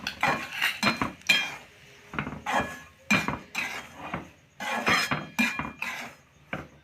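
A utensil stirs rava (semolina) in a metal pan while making idli, producing loud, close, repeated scraping clanks and clinks in an uneven rhythm with no talk.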